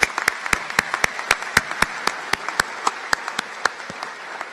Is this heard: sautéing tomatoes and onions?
no